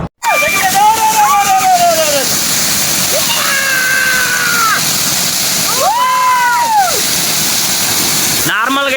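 Off-season hill-station waterfall in Vizianagaram district with only one stream flowing, a constant rushing roar throughout while people shout and talk loudly over it.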